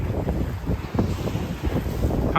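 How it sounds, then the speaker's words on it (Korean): Waves from the Volga river wash against a stone embankment under strong, chilly wind, a steady broadband rush with wind buffeting the microphone and soft irregular surges, no voices. "강파제를 때리는 볼가강의 이 파도 소리도"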